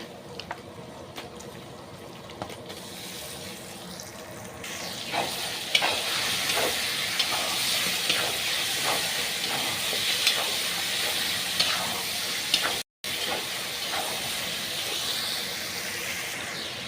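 Chicken sizzles and fries in a pan with chili, turmeric and cumin, a continuous hissing crackle that grows louder as the meat goes in, with occasional stirring scrapes and a brief dropout.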